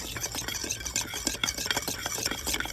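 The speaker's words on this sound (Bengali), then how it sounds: "এইভাবে ভালো করে আমি লবণটা দিয়ে ফেটে নেব" Salt and mustard oil whisked in a small bowl, quick rhythmic scraping and clicking strokes close by, fairly quiet and steady, with no talk.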